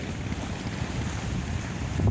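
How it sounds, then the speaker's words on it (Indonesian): Wind rushes and buffets steadily at a seaside fishing spot with choppy water, a broad roaring noise with low gusts that swell near the end, no voices. "Suasana tempat spot sahabat ini agak berangin"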